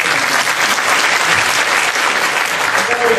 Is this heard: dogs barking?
no